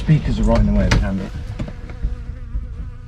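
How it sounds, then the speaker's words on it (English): A bee buzzes inside a Mk1 Escort camper. The close, fluttering drone comes in short bursts over a low background rumble in the cabin. "There's a bee in here."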